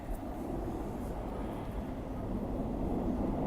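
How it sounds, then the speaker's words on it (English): Steady low rumble of a train crossing a bridge at a distance, a continuous heavy drone with faint rattling and no voices. "Another train going over."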